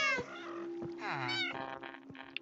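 Cat meowing in the Minecraft video game, several high, wavering meows following one after another at close range, loud and clear with no voices over them.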